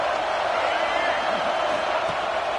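Big football stadium crowd at Michigan vs USC roaring steadily to keep the opponent pinned deep, a loud dense wash of cheering with no breaks.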